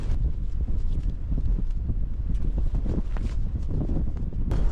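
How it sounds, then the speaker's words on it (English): Strong gusty wind of about 30 mph on the coast at St Abbs, Scotland, buffets the microphone in a continuous low rumble with bursts of noise, loud and close throughout. "Windy as out here, mate."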